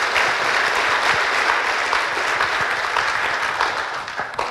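A conference audience cheers and applauds between lightning talks, a dense, loud and continuous roar of clapping that holds steady before tapering slightly at the end.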